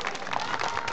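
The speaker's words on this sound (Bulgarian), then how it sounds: "Заслужени аплодисменти." Audience applause after a folk dance club's performance at a Bulgarian folklore event, a steady wash of clapping filling the whole moment at moderate level.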